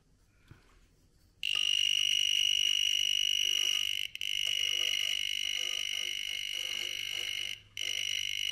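An EMOS VT-120 non-contact voltage tester beeps a high-pitched electronic tone continuously, loud and piercing, with two brief dropouts, after a short quiet stretch with faint clicks.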